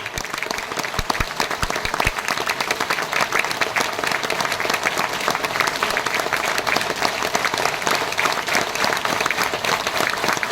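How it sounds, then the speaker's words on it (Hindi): Audience at an Ahmedabad seminar breaks into loud, sustained applause, dense clapping filling the room steadily from start to finish. "ऐसी ताली बजनी चाहिए कि भीलवाड़ा में उसको"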